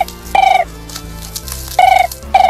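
A phone rings with repeated bright electronic tone bursts, three short pulses at a steady rhythm over a humming low background, fairly loud and close, no voices.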